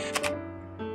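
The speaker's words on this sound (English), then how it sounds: "the mechanical shutter is definitely a lot quieter than on my X-T50" Mechanical shutter of a Fujifilm mirrorless camera firing, quieter than an X-T50's: two quick, close, soft clicks in a row, followed by a fainter mechanical sound a moment later over a low background hum.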